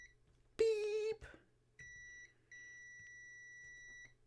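Electronic beeps sound after a WW2 Willys MB Jeep's headlight switch is turned on: a short loud tone, then two longer steady beeps with brief pauses, close and clear over quiet background.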